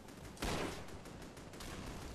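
A grenade launcher fires in Call of Duty 3, giving one sharp, loud blast followed by a short decaying rumble and faint background noise, with no talk.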